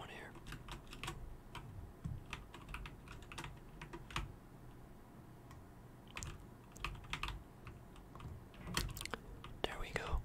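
Soft, fast clicking of a computer keyboard during a Fortnite Battle Royale match, irregular bursts of keystrokes close to the mic, alongside a quiet whispering voice.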